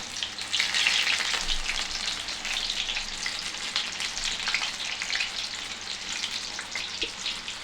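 Sweet corn vadas fry in hot oil, a loud, busy, continuous sizzle and bubble close by, holding steady with small crackling bursts.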